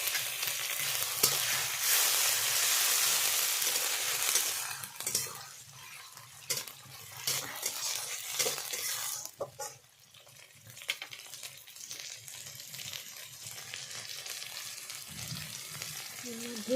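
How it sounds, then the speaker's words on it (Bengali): Green chilli paste and onion paste hit hot oil with a loud, bright frying hiss that settles into a steady crackling sizzle, close by, with occasional stirring clatter. "দিয়ে দিচ্ছি কাঁচা লঙ্কা বাটা এবং পেঁয়াজ বাটা।"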